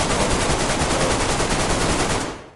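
Sustained rapid automatic gunfire from a gun firing explosive bullets in the video game DayZ, a loud, dense, continuous burst lasting a couple of seconds before tailing off.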